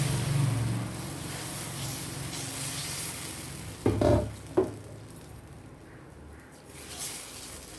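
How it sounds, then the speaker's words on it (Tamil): Dosa batter made from sorghum, green gram and urad dal meets an unoiled griddle, giving a soft sizzle that fades, with a couple of sharp scraping knocks as it is spread. "தோசைக்கல்ல எண்ணெய் இல்லாமல் ஊற்றிக்கணும்."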